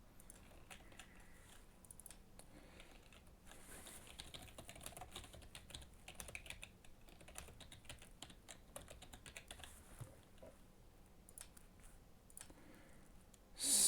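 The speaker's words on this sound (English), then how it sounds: "I don't even know how to not make mistakes when typing." Typing on a computer keyboard during a livestreamed fantasy painting session, a continuous faint patter of quick key clicks with irregular rhythm, close by and quiet.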